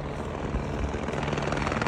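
A helicopter runs at Lukla airport in Nepal, giving a steady dense rotor and engine roar close by with no speech.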